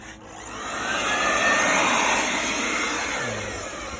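A small electric blower powered by a 24V 3kW solar inverter on a smoothie truck roars with a broad rushing whoosh, swelling up and easing off over a few seconds, close by with no voices.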